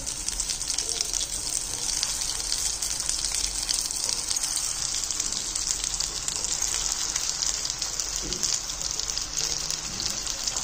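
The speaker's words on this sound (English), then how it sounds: "Here I have taken generous amount of oil. In that we will shallow fry them." Patties shallow frying in a generous amount of oil over a medium flame, a steady close hiss and crackle that runs unbroken throughout, with no talk.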